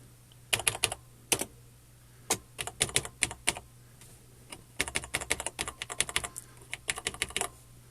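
Keys clatter on the keyboard of a TRS-80 Tandy Model 100, a 24K vintage portable computer, in quick irregular bursts of close, crisp taps with short pauses between them and no talking.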